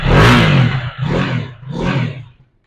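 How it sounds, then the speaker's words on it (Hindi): A 2025 KTM Duke 250 motorcycle engine is revved hard toward 4000 RPM, close and loud, in three surging bursts that rise and fall with short dips between them before it settles back. "अभी मैं इसको रेव करता हूँ 4000 RPM पे"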